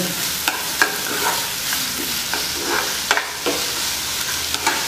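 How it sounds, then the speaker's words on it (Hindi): Prawns fry in a pan for Chinese-style prawn chilli, a constant close sizzle broken by repeated spatula scrapes and taps as they are stirred, with no talk. "इसको हम दो मिनट तक फ्राई करेंगे"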